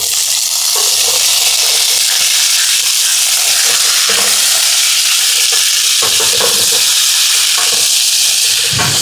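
Pumpkin pieces sizzle loudly in hot oil with dried red chilies in a pan, a dense, steady hiss of frying broken by scraping stirring strokes.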